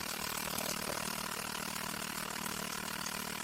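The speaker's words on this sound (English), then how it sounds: "Here you can see the vacuum pump." A vacuum pump in a high-voltage capacitor setup runs steadily, giving a constant mechanical hum and drone with a fine rattling texture, even and unbroken throughout.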